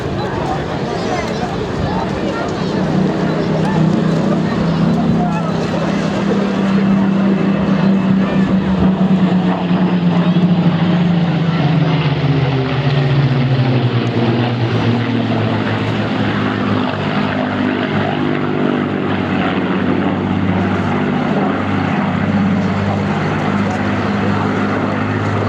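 A Supermarine Spitfire propeller fighter flies over an airshow crowd, its loud piston engine droning steadily and shifting in pitch as it passes, with someone talking over it throughout.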